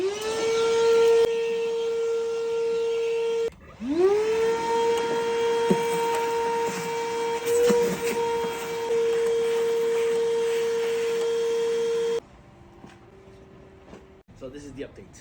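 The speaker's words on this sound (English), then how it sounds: "we're gonna blow off all these leaves" Leaf blower clearing leaves out of a Pontiac G6 engine bay: a loud, steady droning whine close by, cutting out briefly and revving back up, then stopping, leaving a quieter background.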